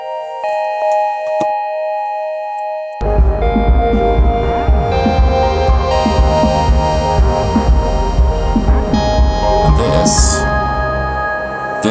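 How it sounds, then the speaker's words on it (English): Glitchy synth tone with an LFO slowly opening and closing its filter, a steady throbbing, pulsing drone with ticking rhythmic layers, loud and continuous after a brief quieter opening. "So slowly opening and closing filters."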